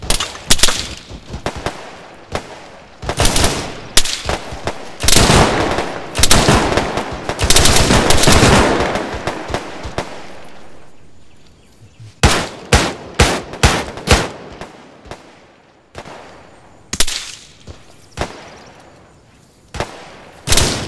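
Bursts of automatic gunfire and single shots in the military video game ArmA 3, loud and close at first, then in sharp clustered volleys separated by short quiet gaps.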